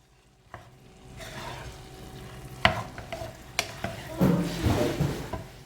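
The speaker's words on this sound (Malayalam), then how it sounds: "ഇനി റൈസൊക്കെ നല്ലോണം മിക്സ് ചെയ്തെടുക്കാം" A spoon stirs tomato rice around a pan, giving close, intermittent scraping and soft clinks that grow busier toward the end, over a faint low background.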